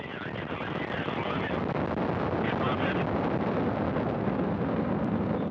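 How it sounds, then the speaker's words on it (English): Progress resupply rocket lifting off from Baikonur, a steady, loud broadband roar that rumbles continuously throughout without a break, with speech audible faintly underneath. "We have liftoff of the 65th Progress resupply vehicle"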